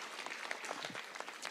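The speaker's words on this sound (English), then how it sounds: "Can we give another round of applause to Her Excellency," Audience applause at a celebration honouring women achievers, a dense, steady wash of many hands clapping close by, with no speech over it.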